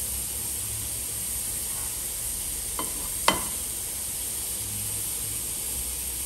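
Egg mixture dropped into sauce over a low flame, a steady soft sizzle and hiss throughout with a couple of brief sharp taps midway, no talking.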